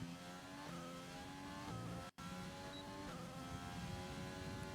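Racing car engine held at full throttle uphill in a video game set at the Bahrain Grand Prix circuit, a steady loud revving drone with rising harmonics and a brief gear-change dropout partway through.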